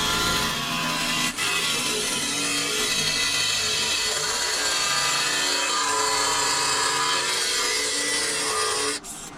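Industrial grinder chewing through a cheap Dollar Tree metal fork, a harsh, loud, continuous rasping whine and scraping that runs unbroken for several seconds before dropping off abruptly at the end.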